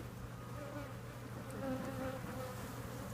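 Honeybees swarm an open beehive at a farm in Manoa, their dense buzzing steady and close, forming an unbroken drone with no voices.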